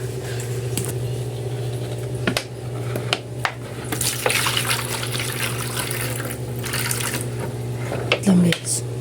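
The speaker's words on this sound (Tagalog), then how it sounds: "So nilagyan ko na yung tubig." Tap water running and splashing into a fish tank at home, a steady pour with clinks and bumps of handling over a constant low electrical hum.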